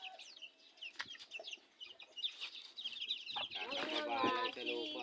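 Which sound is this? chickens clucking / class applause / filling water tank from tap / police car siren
chickens clucking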